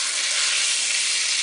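Skin-on salmon seasoned with lemon pepper sizzles steadily in a stovetop pan just after being flipped, a close, loud, even frying hiss with no talking.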